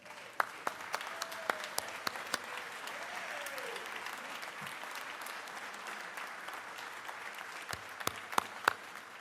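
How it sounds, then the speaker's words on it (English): Applause from an audience in a state house chamber, a sustained patter of many hands clapping at moderate distance, with a few louder individual claps standing out. "Let's give them a round of applause."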